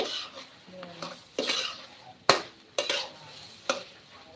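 Enoki mushrooms frying in hot oil in a pan, with a steady background sizzle broken by several sharp clanks and scrapes of a utensil stirring against the pan at irregular intervals.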